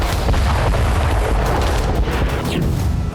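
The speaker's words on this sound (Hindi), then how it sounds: "कुर्स्क में अब ताकतवर बम से हमले हो रहे हैं।" Powerful bomb explosions in Kursk make a continuous heavy, rumbling roar with overlapping booms, loud and dense for the whole stretch.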